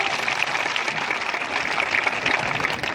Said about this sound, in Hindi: एक बार बहुत जोर से तालियां हो जाए माननीय राष्ट्रीय अध्यक्ष जी के लिए